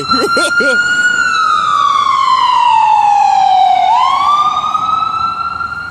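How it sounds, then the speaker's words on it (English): A loud siren wails continuously, sweeping down in pitch and then jumping back up, as an emergency vehicle passes close by. "gonna let the ambulance go by."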